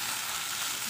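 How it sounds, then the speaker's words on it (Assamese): Sliced bitter gourd and potato fry in a pan in a home kitchen, giving a steady, close hiss of sizzling oil that runs without a break and without voices. "एतिया मैं भातकेरेला आलूखिनि दि दिছো।"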